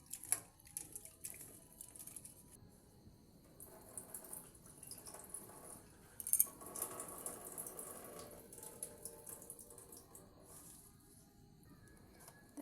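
Prawns are washed under running water in a kitchen, a faint, uneven splashing and trickling with small drips and clinks, heard close and quiet with no talking.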